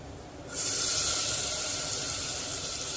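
Chopped tomato dropped into a hot tempering of spices hits the oil with an abrupt sharp hiss, settling into a steady, fairly close sizzle that continues to the end.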